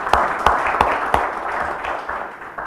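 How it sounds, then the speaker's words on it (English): Applause from a conference audience, with a few distinct loud claps near the start over a steady wash of clapping that gradually fades. "So one more time, if we could have a round of applause as thanks and recognition for Daniel."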